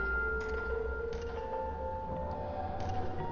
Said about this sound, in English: The music box started playing.